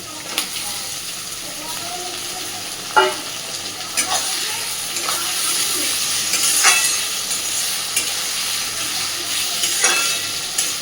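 Prawns in a frying pan give off a steady close sizzle while sharp scraping stirs recur every couple of seconds, with speech heard faintly over the frying.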